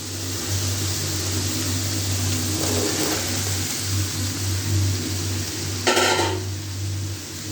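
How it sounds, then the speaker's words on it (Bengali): Potatoes and vegetable stems sauté in a spice paste in a pan, giving a steady low sizzle with occasional stirring scrapes and a brief clatter near the end, no voices. "এখন ডাটা আর আলু কষাবো সুন্দর করে"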